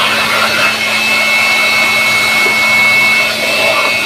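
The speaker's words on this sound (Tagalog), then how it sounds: "Medyo maingay pala si partner gawa ng nagtutuyo ng motor." A machine used to dry a motorcycle, likely a blower, gives a loud, continuous whine with a steady roar, holding nearly constant throughout without pauses.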